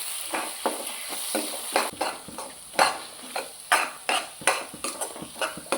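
A spoon stirs egg with tempering in a pan for a chapati snack, sending repeated metallic scrapes and clinks in an uneven rhythm over a soft sizzle, close and clear.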